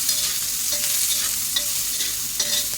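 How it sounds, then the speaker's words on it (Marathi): Chopped onion fries steadily in hot oil for a dill-leaf (shepu) bhaji, a close, continuous sizzle with soft stirring scrapes throughout and no voices. "तर आता पहिला कांदा आपण तेलात भाजू"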